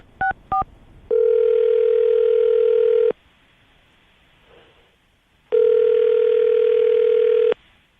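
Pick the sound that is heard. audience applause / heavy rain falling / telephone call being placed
telephone call being placed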